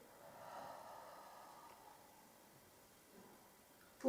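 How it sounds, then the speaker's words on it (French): A soft, breathy exhale during a Pilates exercise, faint and close, fading out over about a second in a quiet room. "et vous soufflez"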